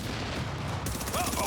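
Dense shooter video game gunfire rattles continuously, loud and close, with a voice briefly speaking near the end.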